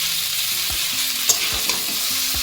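Chow mein stirred in a frying pan, a continuous loud sizzle with a few soft scraping strokes of the spatula, close up and with no voices.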